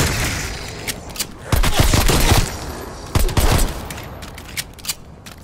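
Shotgun fire in Black Ops Cold War Zombies: loud, booming blasts in quick clusters, a heavy burst early and another a little later, with scattered smaller shots and impacts between them.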